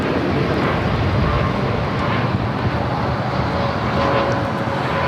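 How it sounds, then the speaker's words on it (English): An Aeromexico Boeing 787-8 Dreamliner takes off from LAX bound for Mexico City, heard as a steady, loud, wind-buffeted engine rumble with a faint whine and no talking. "647 taking off to Mexico City on a 787-8 Dreamliner"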